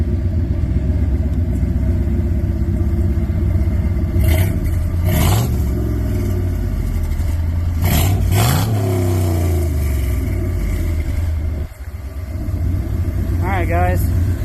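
Early Ford Bronco fitted with a swapped Ford Godzilla V8, idling with a steady low rumble and then given a couple of sharp throttle blips that rise and fall, heard up close with a brief dip near the end.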